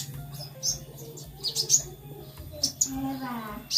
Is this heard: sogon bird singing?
yes